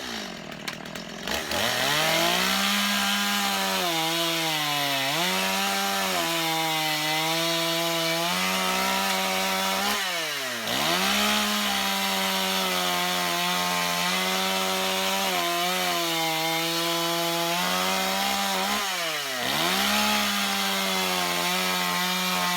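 A Stihl MS 250 chainsaw cuts slices off apple wood, its engine droning loud and close, bogging down into each cut and revving back up between slices, repeated several times.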